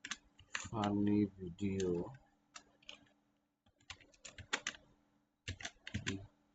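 Computer keyboard keys clatter in quick bursts of close clicks between stretches of someone speaking.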